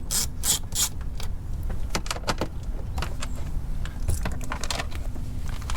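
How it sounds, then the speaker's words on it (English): Ratchet with a size 7 socket loosening a bolt on a car door while replacing a door lock actuator: rapid light clicking bursts with a few pauses, close and moderately loud over a low background hum. "Let's start with the size 7 or 9/32 of ratchet and socket."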